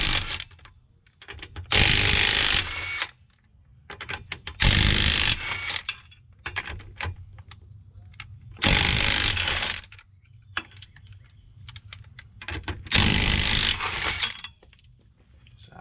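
Pneumatic impact wrench loosening 21mm lug nuts on the rear wheel of a 2012 Nissan Rogue 2.5 S, four loud, close hammering bursts of about a second each, separated by quieter pauses.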